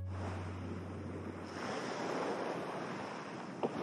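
Waves wash onto an empty beach on North Korea's east coast, a steady rushing surf with some wind noise on the microphone and no voices.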